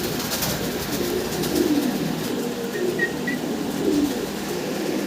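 American Lakkha pigeons coo in soft, scattered calls over a steady hiss of background noise, fairly faint and unhurried.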